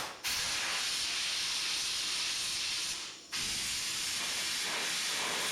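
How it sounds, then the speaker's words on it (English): A strong, steady spray of water hisses loudly onto the chain of a Honda CRF300L motorcycle, cuts out briefly partway through, then resumes just as strong. "Now I'll spray off the chain."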